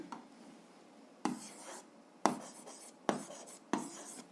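Pen strokes on paper while writing out an algebra inequality by hand: a quiet pause, then four crisp, close scratching bursts spaced about a second apart.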